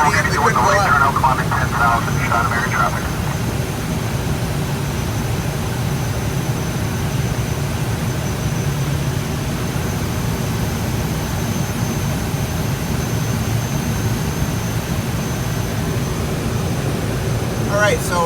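A tow plane pulls an Air Cadets glider aloft, its engine a loud, unbroken drone heard from the glider throughout, with brief voices near the start.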